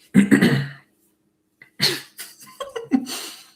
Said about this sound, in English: When you have to clear your throat